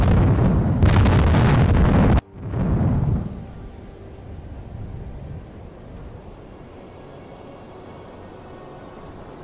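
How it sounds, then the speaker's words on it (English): A torpedo explosion in the submarine game UBOAT: a loud, heavy booming blast for about two seconds that cuts off sharply, then a second rumbling burst that fades into a low, drawn-out ambient rumble. "That was a nice explosion."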